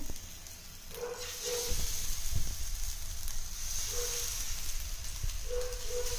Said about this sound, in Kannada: ಇವಾಗ ಆಯಿಲ್ ಕಾದಿದೆ ಇವಾಗ ಒಂದೊಂದೇ ಫ್ರಾನ್ಸ್ ತಗೊಂಡು ಈ ಥರ ಹಾಕಬೇಕು ಪಾನ್ಗೆ